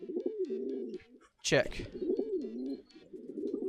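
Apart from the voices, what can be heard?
birds cooing in Hiveswap video game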